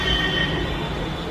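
A metro train pulls into a station platform with a loud, steady rolling rumble and a thin, high wheel squeal running throughout. No voices are heard over it.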